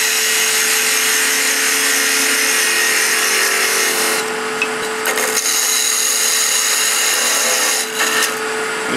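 A wood lathe spins a workpiece being turned down to three-quarters of an inch, a loud steady whir with scraping cutting noise close up and a few brief changes in tone.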